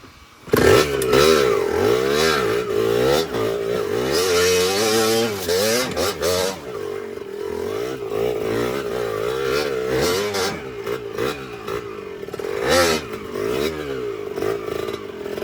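A motorcycle engine revs and roars up close on an enduro trail at Mount Makiling, rising and falling repeatedly with some clattering over rough, rocky ground.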